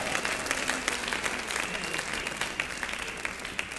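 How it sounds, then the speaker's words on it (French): Congregation applauding during a church service, a steady, fairly soft spread of many hands clapping with a roomy crowd murmur beneath, continuing evenly throughout. "Come on, on applaudit le roi des rois."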